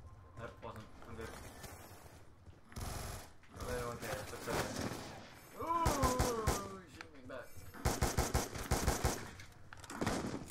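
Gunfire in the video game Black Ops 2 in Standoff mode: bursts of rapid automatic shots and single cracks with thuds, loud and close, alternating with stretches where players talk.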